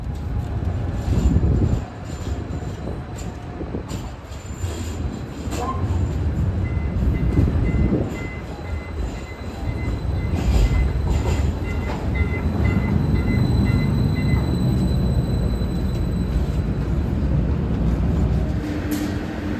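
Milwaukee L line streetcar pulling into a stop, a loud close rumble of wheels and motor rising and settling, with faint electronic tones and brief squeals over steady rail noise.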